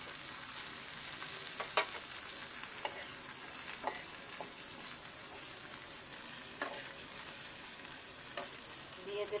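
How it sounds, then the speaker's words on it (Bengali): Shrimp frying in a pan with chopped onion and garlic, a steady bright sizzle throughout with occasional light stirring scrapes and ticks, close and continuous with no voices. "পেঁয়াজ এবং রসুন কুচির সাথে চিংড়ি মাছটা ভেজে নেব।"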